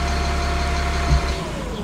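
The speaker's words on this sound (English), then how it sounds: "Shut the truck off so you can hear me." A truck engine idles steadily with a low, continuous rumble and a faint hum, close by, with no talking.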